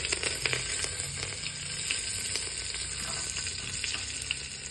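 Oil sizzling and crackling steadily in a pan while cooking dal, a continuous close frying hiss with scattered small pops.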